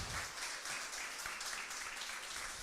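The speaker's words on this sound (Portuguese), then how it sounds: "Aplauda o Senhor Jesus, igreja." A church congregation applauds during a Sunday worship service at Casa de Oração Para Todos os Povos in Tijuca, with faint, steady clapping that carries on evenly, somewhat distant.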